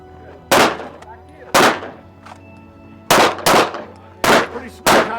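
Handgun shots ring out in a shooting drill, six sharp, loud reports in irregular pairs and singles, each with a short ringing decay, close by and without talk.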